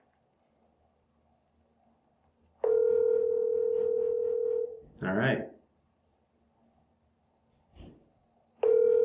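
A Grandstream WP820 WiFi cordless VoIP phone on speakerphone sounds a steady call-progress tone that stops, then returns after a pause, while someone speaks briefly between the tones.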